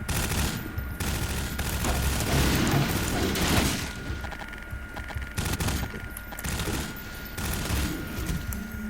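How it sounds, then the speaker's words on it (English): A grenade explodes with a heavy boom during a Half-Life 2 firefight, surrounded by bursts of rapid automatic gunfire and mechanical clatter, loud and close throughout. "that was a hell of a grenade"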